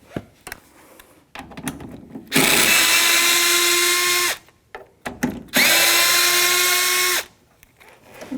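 Power drill with a 10mm socket backing out the mirror mounting bolts on a 2006-12 Toyota RAV4, two loud sustained whirring runs of about two seconds each, separated by clicks and handling noises.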